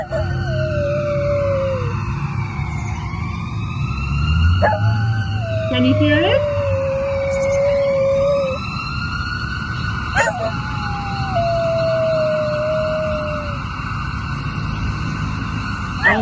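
A wailing emergency vehicle siren rises and falls repeatedly, loud and close, with a voice speaking briefly over it and a dog-like howl in the mix.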